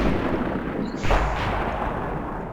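Tank gun shot from an FV304 artillery piece in World of Tanks, a single muffled boom about a second in, set against a steady dense game rumble with no talk.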